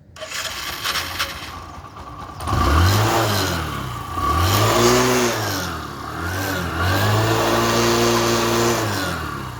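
A motorcycle with dirt and dust in its petrol filter is self-started with its cell motor. The engine catches after a moment, then loud repeated revs rise and fall in three or four swells, close by.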